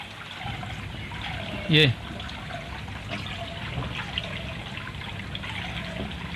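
Water flows out of a pipe from a biofloc fish tank in a steady, gentle trickle. Someone talks over it throughout, and a short sharp chirp cuts in once.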